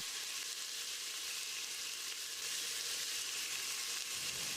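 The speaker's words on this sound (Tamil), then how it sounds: "1/4 டீஸ்பூன் மஞ்சள் தூளையும் சேர்த்து தக்காளியை மசிகிற அளவுக்கு வதக்கிடலாம்." Chopped onions and tomatoes sauté in oil with salt and turmeric in a pan for a goat intestine curry, giving a steady, close sizzle and frying crackle that runs evenly throughout with no talking.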